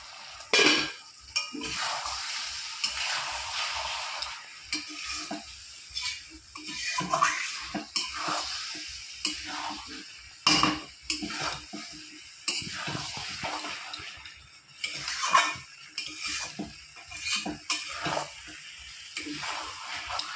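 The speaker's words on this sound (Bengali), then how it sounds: "এবার ঢাকনিটা তুলে আবার কিছুক্ষণ কষিয়ে নেব।" Chicken meat being stir-fried without oil over low heat in a pot with its lid lifted, giving a steady wet sizzle and sputter broken by clinks and scrapes of stirring against the metal.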